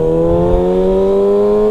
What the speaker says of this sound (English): Man, this bike is ridiculously fast.